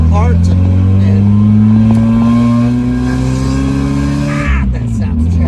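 A Mazda Miata drift car's engine and exhaust idle loudly and steadily with a droning, slightly uneven rumble, then dip briefly near the end, with voices audible over it.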